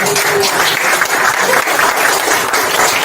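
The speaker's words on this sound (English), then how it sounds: "let's have a big round of applause for the brother Cold Duck" Audience applause at an aerosol arts conference, loud, dense clapping from a crowd filling the room, sustained evenly throughout with no talk over it.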